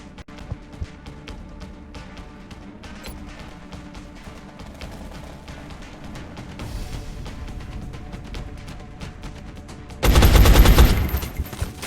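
Rapid gunfire from the video game XCOM rattles in quick bursts, building into a dense, loud volley of automatic fire toward the end.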